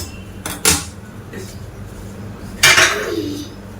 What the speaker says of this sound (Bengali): আর এই টিফিন কৌটোটা বসিয়ে দেব।